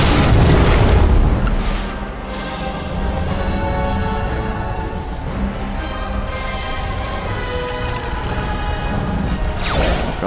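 A loud, booming bomb explosion in Lego Dimensions opens with a heavy blast, followed by a long rumbling, crashing tail that sustains at high volume.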